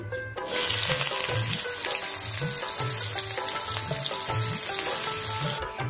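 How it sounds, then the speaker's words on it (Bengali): Onions frying in hot oil in a pan during a fish (chikra/cheua) curry preparation, a steady close sizzle and crackle that runs unbroken for the whole stretch with no voices over it. "পেঁয়াজটা ভাজা হয়ে গেছে"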